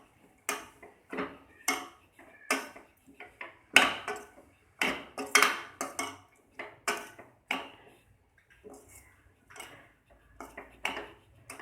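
A spoon stirs and scrapes beetroot mixed with turmeric and chili powder in a cooking pan, giving a run of sharp, rhythmic metallic clinks and taps, close and distinct, that slow and soften toward the end.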